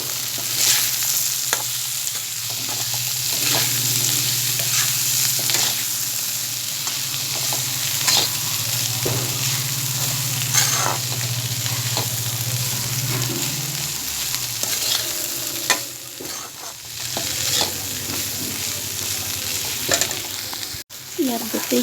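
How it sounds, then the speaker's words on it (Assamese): Boiled peas and potatoes frying with spices in a pan make a continuous loud sizzle, broken by repeated scraping strokes of a stirring spoon and a low steady hum underneath. "এতিয়া 10 মিনিটমান ভাজিম।"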